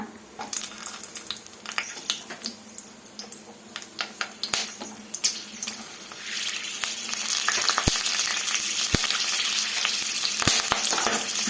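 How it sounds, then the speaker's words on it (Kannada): Green chilies fry in hot oil for a brinjal (badnekayi) khara dish, a steady sizzle that swells louder midway, with scattered sharp crackles and spatter pops; no voices. "ಆಯಿಲ್ ಸೇರಿಸ್ಕೊಂಡಿದ್ದಾದ್ಮೇಲೆ ಇವಾಗ ಮೊದಲು ನೋಡಿ ಹಸಿಮೆಣಸಿನ್ಕಾಯಿ ಸೇರಿಸ್ಕೊಳ್ಳೋಣ"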